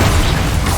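Bombarda blasting spell in Hogwarts Legacy, a dense, continuous boom with a rumbling low end and broad crackle, loud and filling the whole short moment without a clear gap.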